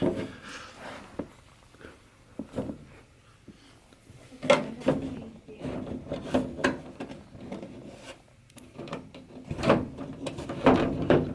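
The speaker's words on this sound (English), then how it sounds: "So I'm going to start putting some screws in." Screws going into a Healthrider treadmill (model DRTL25061) during a walking-belt replacement: intermittent close clunks, scrapes and rubbing knocks from hand work on the frame, scattered unevenly with quiet gaps between.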